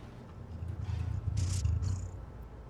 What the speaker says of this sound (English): Kitty wants to cuddle.